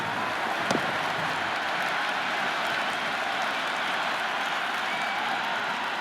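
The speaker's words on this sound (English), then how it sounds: "It's the most enthusiastic crowd you could ever see right now. There's a buzz, a real buzz coming from the stands." Stadium crowd in the Cricket 26 video game during an IPL match between RCB and SRH, a steady dense roar of cheering and applause from the stands, continuous and evenly loud throughout with no break.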